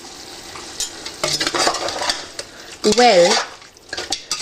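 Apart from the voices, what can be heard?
stirring a pot of Indian meat curry with spices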